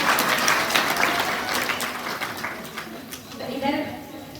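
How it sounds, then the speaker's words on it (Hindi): Audience applause at a Hindu Shrimad Bhagavat Katha religious storytelling gathering, a dense continuous patter of many hands that holds steady for several seconds and rises slightly near the end, with a voice running over it. "एक बार खुद के लिए जोरदार तालियां"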